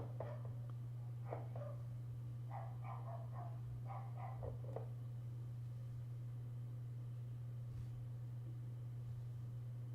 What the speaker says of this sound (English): some dogs are fighting